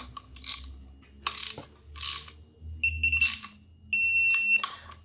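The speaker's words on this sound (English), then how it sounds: "Now I've set my torque wrench to 15 foot-pounds, and we just start the process over again." A torque wrench ratchets in short bursts while tightening the valve cover bolts on a small block Chevrolet engine, crisp close clicking repeated several times with brief pauses, and no one speaking.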